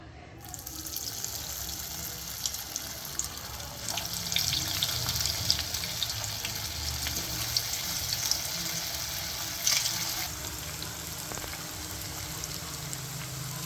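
Dense, continuous sizzle and crackle of cabbage Manchurian balls frying in hot oil over medium flame, close and steady, with small pops scattered throughout.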